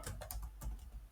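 Quick, light keystrokes on a computer keyboard, a short run of about five taps, close and quiet with no voice.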